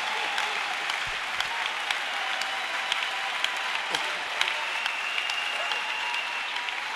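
A church congregation at a worship service applauds steadily, a dense, even clatter of many hands clapping that continues throughout with scattered louder claps and a few faint voices underneath.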